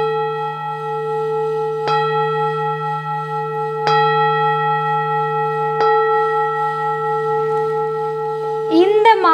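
A Tibetan singing bowl struck like a prayer bell, three clear strikes about two seconds apart, each leaving a long sustained metallic ring that layers into a steady drone, with a brief scraping rattle at the end.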